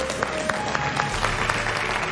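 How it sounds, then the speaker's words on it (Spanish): Studio audience on a live Spanish TV show applauding loudly to send off a man dressed as King Balthazar, steady dense clapping throughout with brief louder bursts and a faint tonal hum beneath. "vamos a despedirlo con un fuerte aplauso al rey Baltasar"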